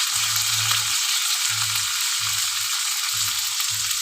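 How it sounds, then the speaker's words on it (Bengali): Potatoes and sliced ridge gourd fry in a pan for a thin curry, giving a steady, close sizzle with bright crackle throughout and a few short low-pitched stirring bursts. "আলুটা একটু ভেজে নিচ্ছি"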